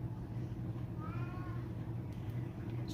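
A house cat meows for treats, one short rising meow over a steady low household hum, fairly faint and close.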